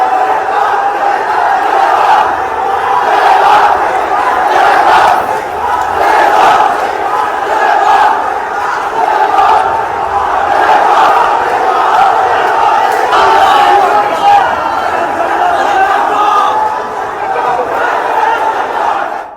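Large crowd protesting in the streets of Dhaka, Bangladesh, a dense, continuous roar of many voices shouting and chanting together, loud and sustained throughout with surging peaks of battle-cry intensity.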